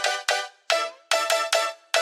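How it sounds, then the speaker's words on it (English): Bright synth chord sample in a future riddim beat, stabbing in a choppy, uneven rhythm of about seven short hits that follow the melody, alone with no talk. "Finally we have this one that is a chord following the pattern of the melody."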